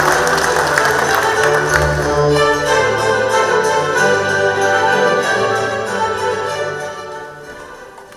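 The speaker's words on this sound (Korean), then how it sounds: "여러분 박수로 맞이해 주시기 바랍니다" At a corporate partnership declaration ceremony, a crowd applauds to welcome a speaker to the stage, the clapping blending with a musical fanfare and gradually fading out.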